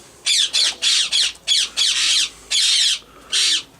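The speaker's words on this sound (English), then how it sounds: "very funny sounding pigeon" A pigeon in a racing loft gives an odd, loud, close series of harsh squawking calls, eight or nine rasping bursts in quick, uneven succession.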